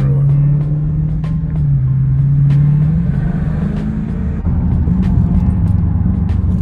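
A car driving through road traffic, with a steady low engine rumble and drone throughout, a few faint clicks and ticks, and no talk.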